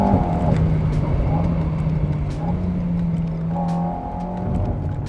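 Alpine A110 sports car under hard acceleration from 0 to 100 km/h, a steady loud engine drone throughout with a rising harmonic tone, heard continuously and close.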